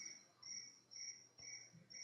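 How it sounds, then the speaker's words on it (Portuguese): Cricket chirping inside a church, a steady series of bright, regular chirp trills repeating about every half second, moderately close and alone with no voices, over a faint low room hum. "Tem um grilo solto na igreja."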